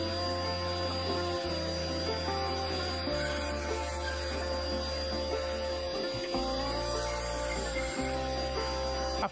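A bandsaw cutting a waste piece from wood offcuts, a steady motor drone and blade whine with shifting tones as the cut loads and eases, near and continuous, with brief dips.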